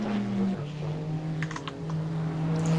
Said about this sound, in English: I was actually typing in Twitch chat.